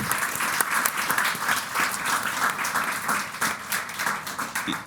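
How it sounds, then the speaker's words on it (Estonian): A conference audience applauding the day's speakers, sustained dense clapping from a crowd in a hall, rising and falling slightly in intensity. "teeme ühe suure aplausi veel kõikidele esinejatele, kes täna siin olid."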